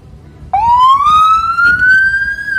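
Electric siren on a Shineray SE1 electric patrol scooter with a custom lithium battery switches on abruptly and holds a loud, steady rising wail close by, with no talk over it.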